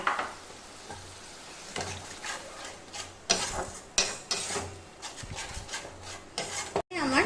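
A ginger, garlic and onion spice paste with whole coriander, cumin and red chili paste fried in a pan: a soft sizzle under repeated scraping and clinking spatula strokes, close and quiet, with no voices.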